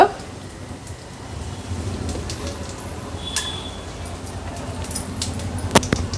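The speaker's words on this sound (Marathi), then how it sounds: "राई जिरं थोडं तडतडलं का" Mustard and cumin seeds crackle in hot oil for tempering, with a pinch of asafoetida. A steady rain-like crackle carries on at a moderate level, broken by scattered sharp pops.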